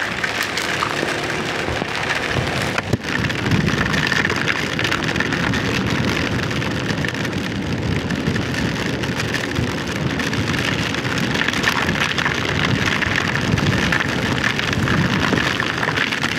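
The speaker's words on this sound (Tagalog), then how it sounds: "Dito pala malakas ang ulan, oh." Heavy typhoon rain pours steadily and densely at a campsite in the Philippines, a constant loud hiss of drops on surfaces with no pauses and no voices.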